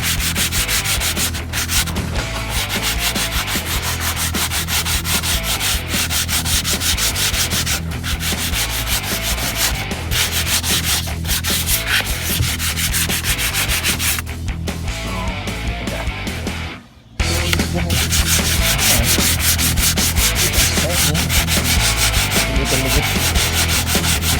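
Rhythmic hand sanding of an old garage door, a coarse, scratchy rubbing repeated in steady strokes, close and continuous, with one brief pause near the end before it resumes.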